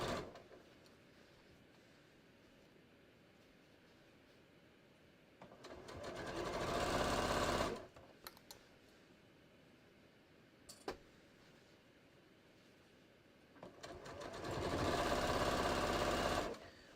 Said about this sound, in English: basically I'm just going to sew around